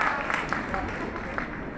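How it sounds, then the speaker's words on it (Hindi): Applause from an audience welcoming an MLA at a Christmas gathering in a church hall, a brief, fairly faint patter of clapping throughout. "कृपया जोरदार तालियों से उनका स्वागत कीजिए"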